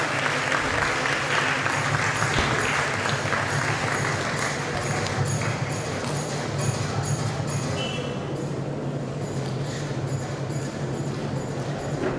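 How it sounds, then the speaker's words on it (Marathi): Loud, sustained applause from an audience at a prize distribution ceremony, honouring a third-place winner in an open-category elocution contest, steady clapping throughout with crowd murmur beneath. "जोरदार टाळ्या वाजवूया आपण"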